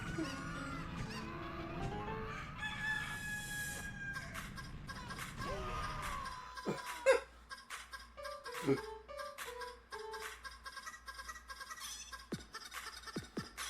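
Video game fowl calls from Hero of Law: a string of squawking, honking bird cries that end in a rooster-like crow, with game effects and music running underneath.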